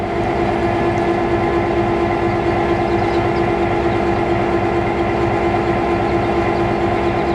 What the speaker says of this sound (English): the locomotive will go past our train on track number 2